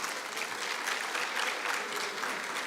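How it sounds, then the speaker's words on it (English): A conference audience applauds in a steady, dense round of clapping that holds at an even level throughout, with no voices over it. "Can we just give them a round of applause?"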